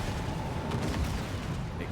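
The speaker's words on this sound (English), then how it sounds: "Explosions everywhere." Dense, rumbling booms and crackling blasts pile up continuously, with a busy, chaotic roar of explosions in a racing video game finals heat and a voice faintly underneath.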